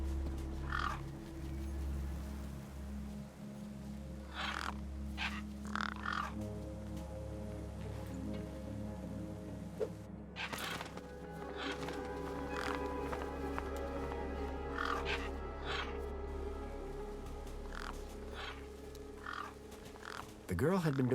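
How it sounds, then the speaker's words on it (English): Gang birds croak and caw over a corpse in the video game Beyond a Steel Sky, rough calls repeating at intervals over a low droning ambience, with someone narrating through much of the scene. "The gang birds were eyeing up the corpse hungrily."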